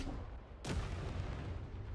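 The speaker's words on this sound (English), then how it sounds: "we're just going to fire this cannon from its extended position and see how far it goes" A single cannon shot in the game Trailmakers, a sudden sharp boom about two-thirds of a second in, followed by a lingering low rumble over a steady background hum.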